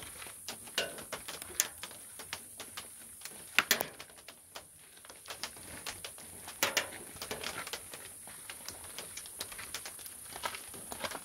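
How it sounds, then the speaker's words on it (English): Light rain patters outdoors, a quiet scatter of soft, irregular ticks and taps, some slightly sharper, with no voices. "It's raining a little bit."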